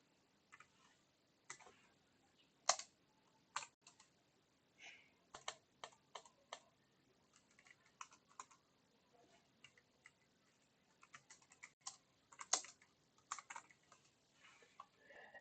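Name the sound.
typing code on a computer keyboard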